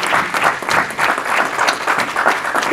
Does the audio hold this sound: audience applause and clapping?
yes